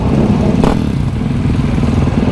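A supermoto motorcycle engine runs steadily and close by, a loud continuous mid-pitched drone with a brief clatter partway through and no talking.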